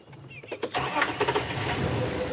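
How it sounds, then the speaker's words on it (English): A safari vehicle engine cranks and catches, a short starter whir followed by a rising rumble that settles into a steady idle, close by, with a voice heard briefly around it. "me get my car started first"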